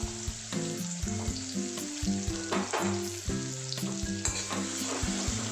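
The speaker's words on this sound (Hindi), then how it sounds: "और हींग डालने के बाद इसमें हम लोग प्याज डालेंगे।" Onions hit hot oil seasoned with asafoetida for an aloo sabji, giving a steady crackling sizzle with stirring that runs beneath prominent melodic background music.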